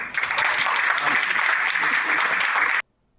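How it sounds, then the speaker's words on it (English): Festival audience at the Being a Man event claps in a dense, even burst of applause lasting a few seconds, then cutting off abruptly into silence. "They're applauding."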